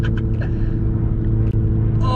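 A manual 2019 MINI John Cooper Works Countryman is heard from inside as it drives, with a steady low engine and road rumble holding throughout.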